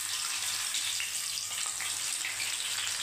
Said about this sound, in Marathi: तर आता आपण तिला तळून घेऊ